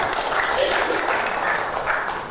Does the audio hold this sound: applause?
yes